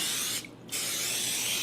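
Cooking spray hisses into a baking dish at close range, two short bursts separated by a brief pause.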